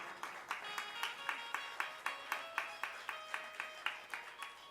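Audience at a Hindi religious discourse clapping in a steady, even rhythm, a dozen or so sharp claps at regular intervals, fairly close and without talk.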